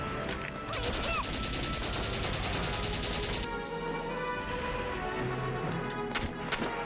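Gunshots in Valkyria Chronicles Remastered, a rapid sustained burst of firing for about three seconds, then scattered impacts over battlefield ambience, moderately loud.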